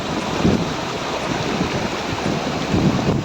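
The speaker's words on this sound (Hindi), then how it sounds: "पानी की आवाज़ सुनिए बस।" Rushing mountain stream water near Gangotri in Uttarakhand, heading toward the Ganges: a steady, broad wash of flowing water with low rumbling surges, close and continuous with no voices.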